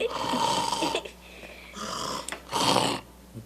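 A person imitates snoring with three rasping, throaty snore breaths, loud and close, separated by short pauses.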